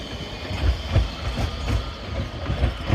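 A tram passes at Highbury Vale with a steady rolling rumble and soft rhythmic wheel thumps on the rails. The sound is fairly close, continuous and unmasked by speech.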